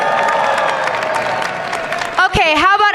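An audience applauds and cheers for a contestant at the Miss Universe 2024 preliminary pageant in Mexico City, a sustained clapping wash under a host's amplified voice, with whoops rising near the end.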